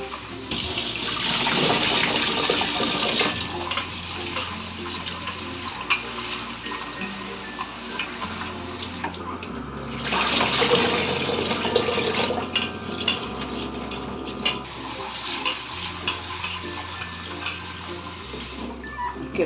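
Rice being rinsed by hand in water, several washes in a row: bursts of splashing and swishing water alternate with quieter stretches of stirring and pouring, close and fairly loud, with no talking.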